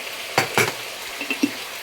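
Bhaji frying in a pan, a steady sizzle with two sharp scraping stirs and a few lighter clinks of the utensil against the pan.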